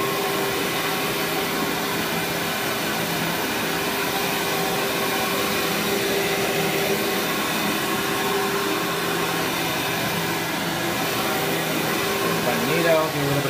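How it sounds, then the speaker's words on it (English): An Amway CMS 1000 Clear Trak cyclonic vacuum cleaner runs steadily, a loud continuous whine with a high tonal drone, close up and unbroken throughout, with a brief bump near the end. "Do a little bit of regular vacuuming."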